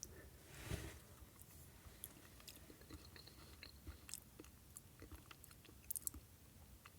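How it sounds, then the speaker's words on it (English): Faint, close chewing of baked beans with pork sausages from a Canadian MRE, soft wet mastication with occasional small clicks in a quiet room. "So the beans themselves, let's taste the beans."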